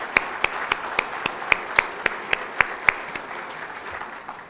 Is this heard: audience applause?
yes